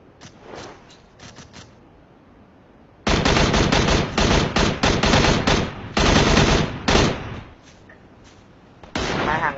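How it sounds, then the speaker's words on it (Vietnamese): Loud video game gunfire in a PUBG Mobile-style battle royale shooter, rapid automatic bursts and single shots close by, with a quieter stretch of distant shooting at the start. "Về hướng trước mặt có thằng nào bắn kìa,"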